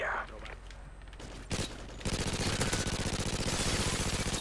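Rapid automatic gunfire in Modern Warfare 2, a dense, loud, continuous burst of rhythmic shots that erupts after a couple of quieter single reports and sustains to the end.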